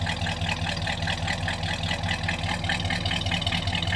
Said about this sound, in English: Just listen from back here. There's a nice sound to it. Idle's nice and smooth.